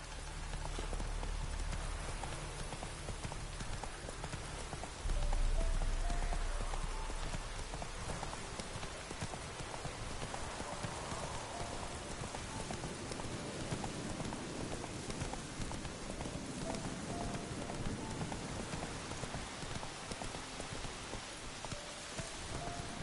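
Roach the horse gallops through rain in a PS4 video game, with steady hoofbeats under a constant hiss of rainfall that runs from start to finish.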